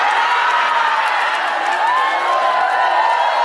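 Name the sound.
audience applause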